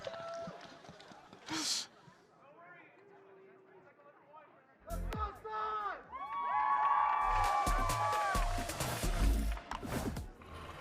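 A crowd at a Valorant esports match cheers and shouts in a sustained loud roar that swells over several seconds, with other voices and sounds mixed in beneath it.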